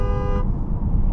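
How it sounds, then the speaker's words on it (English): A 2025 Dodge Durango RT sounds its horn in one steady, loud, close blast lasting under half a second, then road and cabin noise continue. "somebody cuts me off in my 2025 Dodge Durango RT and I want to honk the horn at them"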